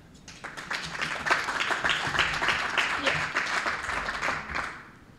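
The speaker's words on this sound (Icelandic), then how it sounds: "og bara gefum henni gott klapp" A small audience at a parents' meeting in Reykjavík City Hall gives a round of applause, a crackle of many hands clapping that swells quickly, holds for several seconds and then tapers off.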